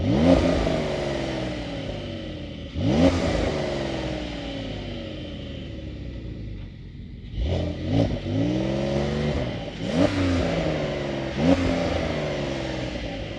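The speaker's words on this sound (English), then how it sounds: "we got some sport exhaust, which is standard on the T. Yeah, let's listen to it." A 2025 Porsche 911 Carrera T sports car engine revs hard several times outdoors through its sport exhaust, each throaty blip rising and falling, with a brief lull between bursts.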